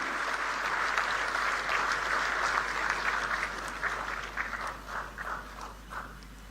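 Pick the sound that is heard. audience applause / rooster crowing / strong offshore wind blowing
audience applause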